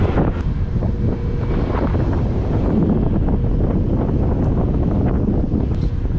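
Strong wind buffets the microphone in a loud, constant roar with rumbling low gusts beside a ferry crossing, and no voices are heard.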